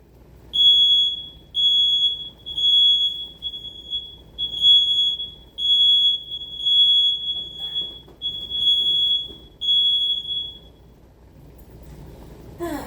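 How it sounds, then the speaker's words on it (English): A shrill, piercing alarm beeps repeatedly in a steady rhythm, about ten loud chirps, then stops. "Sorry about the loud beep."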